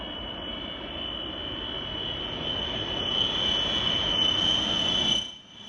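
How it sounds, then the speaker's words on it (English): An overloaded plane roars steadily down the runway on its takeoff run, a loud continuous engine rumble with a high whine that builds slightly and then cuts off abruptly near the end. "this overloaded plane that used every inch of the runway and still barely took off at the last second"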